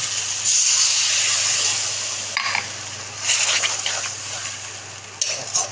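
Water is poured into hot spice masala sizzling in oil in a pan for a Bengali anchovy curry, producing bursts of loud hissing and spitting steam that rise, ease off and flare again, close up with no talk.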